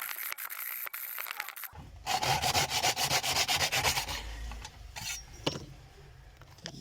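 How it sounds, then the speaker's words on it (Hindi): Hacksaw blade rasping back and forth through a stripped screw on a household clothes iron, steady rhythmic strokes up close, with a few sharp clicks and a quieter fumbling start. "ये पेज मैंने नीचे से काटा है आरी वाले ब्लेड के साथ"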